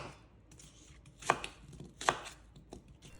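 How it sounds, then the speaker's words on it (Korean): A knife slices through a pear on a cutting board in a kitchen, giving two distinct crisp cuts against a quiet background, faint and close. "배도 하나만 썰어줄 건데요."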